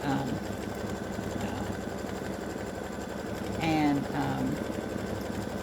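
A sewing machine satin-stitching the top edge of a fabric appliqué pocket, a steady fast mechanical whir running throughout beneath a person talking, with a brief louder burst near the end.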